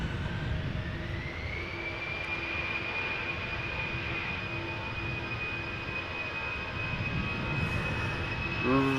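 An Airbus A319 jet at Amsterdam Schiphol on a crosswindy day sends out a steady engine whine with a rising tone over a low rumble, moderately distant and continuous.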